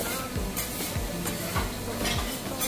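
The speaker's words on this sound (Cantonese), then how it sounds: "依家就煎嗰啲魚，應該係時令魚。" Seasonal sea bream fries on a teppanyaki griddle at a restaurant in Shenzhen, with a close, steady sizzle broken by four or five rhythmic spatula scrapes across the hot steel.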